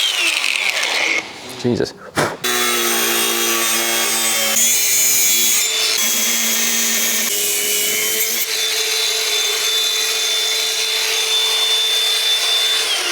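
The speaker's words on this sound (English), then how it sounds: "So let's get the grinder out and do some cutting." An angle grinder cuts into rusty 6mm steel plate, a loud, close, harsh grinding whine that shifts pitch as the disc bites. A short clatter and a brief exclamation come near the start.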